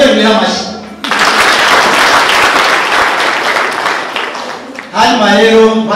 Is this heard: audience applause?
yes